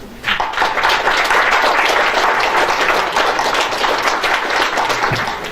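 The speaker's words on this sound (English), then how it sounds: "So let's all congratulate to 6 teams and applaud them." Audience applause for six competing teams at a local-level CFA Research Challenge competition in Mongolia, a dense, steady roomful of clapping that sustains at full strength throughout.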